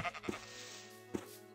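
A sheep in Minecraft bleating twice, short nasal calls spaced about a second apart over faint background game music.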